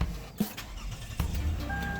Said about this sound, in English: let me go ahead and start this car up